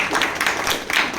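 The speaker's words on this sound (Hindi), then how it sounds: "आप सब लोग इनके एजाज़ में खड़े होकर ज़ोरदार तालियों से इनका इस्तकबाल करें।" Audience standing to give a loud welcoming applause for an honoured guest at a celebration, dense clapping throughout the brief moment.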